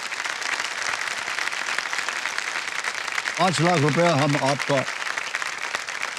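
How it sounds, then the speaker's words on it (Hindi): Studio audience applause on the set of the TV quiz show Kaun Banega Crorepati, a steady broad wash of clapping throughout, with someone talking over it and a short sung or chanted phrase rising in the middle. "तो एक बार जोरदार तालियां बज जाए"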